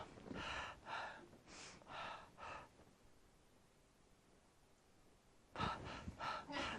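A voice mimics a newborn baby's irregular breathing. Quick breathy gasps come in clusters, then a quiet pause of several seconds, then another burst of short breaths, close and soft.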